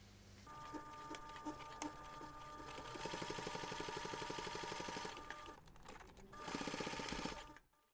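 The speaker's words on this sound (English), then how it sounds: "we're going to take this to the machine and we're going to top stitch along both sides" A sewing machine topstitches along both sides of a zipper on a fabric jewellery pouch, running in a steady whirring burst that pauses briefly near the end and resumes, close and alone.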